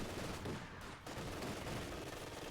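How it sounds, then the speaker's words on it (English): Machine gun and autocannon fire from a Company of Heroes 2 battle, heard as dense continuous bursts of gunfire with a brief lull in the middle, loud and close, with no voices. "Firing away there up close, doing some damage here with the traction machine gun and the auto cannon."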